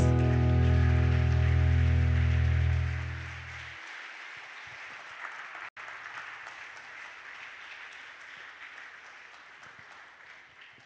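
Church congregation at a family worship service applauding, a dense wash of clapping that continues as a low organ chord fades out in the first seconds.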